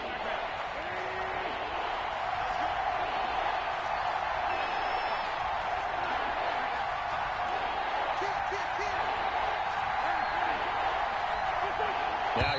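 Steady stadium crowd roar in the Madden 21 football game, a broad continuous wash of noise with faint cheering and scattered claps, moderately loud and unbroken throughout.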